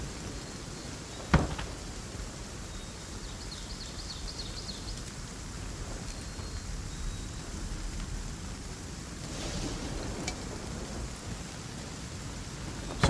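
Rain falls steadily in a night thunderstorm in the Viking survival game ASKA, with a sharp thunder crack early on, a broader rumble later, and a constant hiss of rainfall throughout, no voices.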